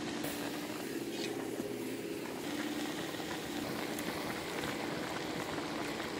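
Rice with fresh dill and salt simmers in a pot, giving a steady, soft bubbling hiss that continues evenly throughout at close range.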